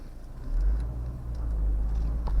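A Peugeot 308 with a 2.0 HDi 150 hp diesel engine and a six-speed manual gearbox idles just after starting, a low, even rumble that swells slightly and then holds steady nearby, with no talking.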